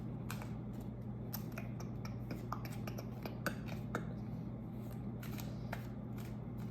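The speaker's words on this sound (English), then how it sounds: "I'm gonna pull a few more cards to clarify." Tarot cards being shuffled and pulled, soft scattered flicks and riffling snaps close by over a quiet steady hum, no talking.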